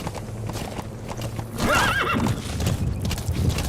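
A horse in Metal Gear Solid V gives a loud, wavering neigh in the middle while its hooves clop steadily beneath, close and clear.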